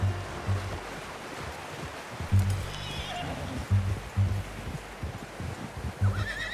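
A horse in Red Dead Redemption 2 gives a few low snorts and whinnies against a steady outdoor ambience, moderately close, with no talk over it.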